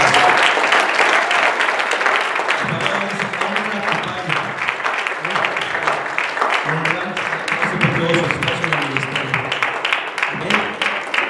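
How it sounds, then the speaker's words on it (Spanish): A Spanish-speaking church congregation applauds to honour their spiritual father. Loud, continuous clapping fills the room for over ten seconds, with shouts and voices rising and falling beneath it. "Honrémoslos con un aplauso al Padre espiritual que está acá"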